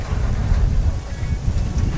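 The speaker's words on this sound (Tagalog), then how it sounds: "Grabe naman to hangin, Kabiyaing Winnie." Strong wind at a seaport in Bacolod City buffets the microphone in a steady low roar, loud and continuous throughout, with no voices.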